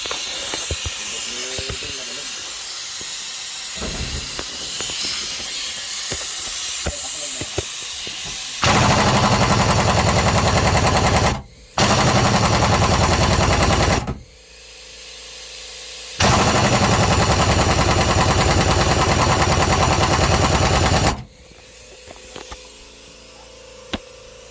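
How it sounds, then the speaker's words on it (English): An air compressor hisses while a pneumatic impact wrench hammers at stuck bolts on the back of a Mercruiser gas V8 in a Sea Ray 240 boat, with three long loud rattling bursts and quieter hissing gaps between them. "I'm gonna fire up the compressor and see if we can get that knocked out, maybe get those two bolts out."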